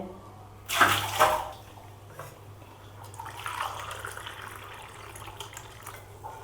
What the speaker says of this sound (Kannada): ಒಂದು ಗ್ಲಾಸು ಇದನ್ನು ಚೆಲ್ಲಿಕೊಳ್ತೇನೆ